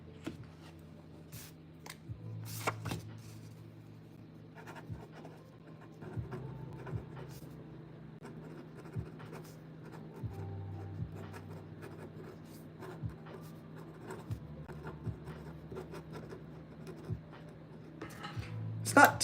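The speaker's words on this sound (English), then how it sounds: "That's my handwriting when I'm writing fast." A pen scratches quickly across a 3x5 note card, soft rapid strokes and taps close to the microphone, with a person speaking quietly at times.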